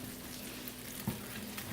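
Faint, steady sizzling crackle of flour-coated honey BBQ chicken wings baking in an oven, a low continuous hiss with a couple of small pops, no talking.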